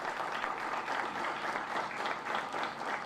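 An outdoor crowd at the inauguration of the Playa Macao reorganisation plan applauds Dominican president Luis Abinader, a steady, dense burst of clapping that holds level for the whole stretch with no voice over it.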